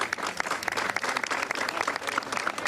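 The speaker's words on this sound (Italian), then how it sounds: "Eccolo qui, e l'applauso." Applause from a gathered crowd at a ribbon-cutting ceremony, a brief burst of many hands clapping, moderately loud and continuous.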